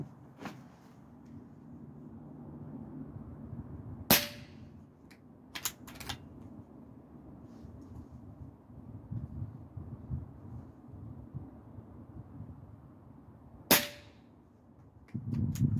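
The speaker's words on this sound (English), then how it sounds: "I'm going to have to be putting a fair number of shots down range to test this box, so I'm going to use the PCP" A PCP air rifle fires pellets into a target box, giving a few sharp, isolated cracks spaced several seconds apart against low background rumble and wind.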